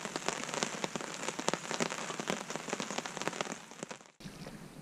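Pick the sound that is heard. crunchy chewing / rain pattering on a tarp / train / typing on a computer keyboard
rain pattering on a tarp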